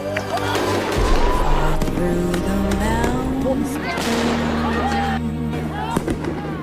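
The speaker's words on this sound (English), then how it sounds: "Police fire rubber bullets at students as cops reclaim the building from occupying protesters." Police fire rubber bullets at student protesters while clearing an occupied campus building at UCLA: a few sharp, loud bangs and cracks cut through a dense crowd of shouting and yelling voices.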